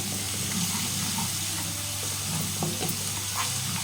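Ginger frying in a pan for chicken fry, a steady close sizzle with occasional stirring scrapes running throughout.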